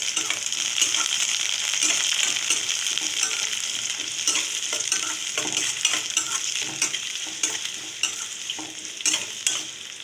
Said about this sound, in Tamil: அடுத்ததாக வச்சுருக்க வெங்காயம் போட்டுக்கலாம். கருவேப்பிலை போட்டுக்கலாம்.